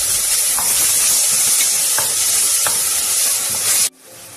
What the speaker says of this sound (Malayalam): തക്കാളി ചോപ്പ് ചെയ്ത് നമ്മൾ ഈ കുക്കറിൽ ചേർത്ത് നന്നായിട്ട് വഴറ്റി